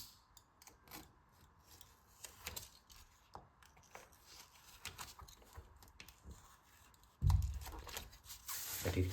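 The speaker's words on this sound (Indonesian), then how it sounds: "Kemudian gunakan gunting." Scissors snip through old discarded plastic cards, such as ID cards, in a quiet room. Faint scattered clicks and rustles lead to a louder burst of cutting and handling near the end.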